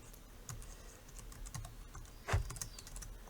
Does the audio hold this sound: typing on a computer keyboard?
yes